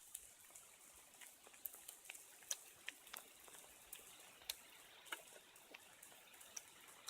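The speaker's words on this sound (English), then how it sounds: "Here comes another rain shower." A rain shower patters in the Vancouver Island wilderness, scattered drops ticking and tapping irregularly against a soft hiss, faint and close.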